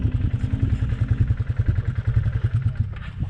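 Four-wheeler ATV engine riding over rough lava terrain at Big Southern Butte, a close, pulsing mid-range engine chug with rattling clatter, easing off near the end.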